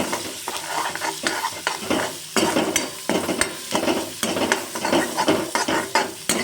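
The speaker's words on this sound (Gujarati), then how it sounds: "હું અડધા કપ જેટલી ડુંગળી એને હું સાતળી લઈશ તેલમાં" Onions sautéing in hot oil for a restaurant-style cashew curry, with steady sizzling broken by repeated stirring scrapes in an uneven rhythm, close and fairly loud, no voices.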